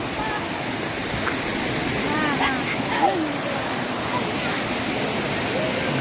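Seethar Kund waterfall at Kollengode pours with a dense, steady roar of rushing water. Faint voices are heard beneath it, and a brief higher call rises above the noise.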